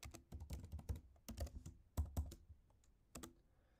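Keys clatter on a computer keyboard as a password is typed, in quick irregular clusters of close, crisp clicks with short pauses between bursts, faint and alone.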